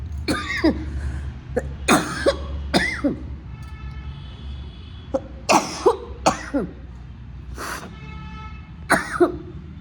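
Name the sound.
coughing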